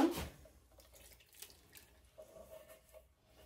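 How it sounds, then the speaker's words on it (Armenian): Marinade pours and trickles over red peppers for pickling in a soft, faint liquid splash that fades into quiet dripping, with no voices. "այսպես, ավելացնում մարինատը,"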